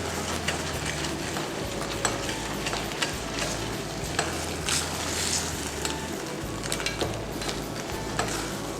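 Crab pepper masala being stirred in a pan, a soft continuous sizzle with scattered scraping and clinking of the spoon, close and even throughout, no voices.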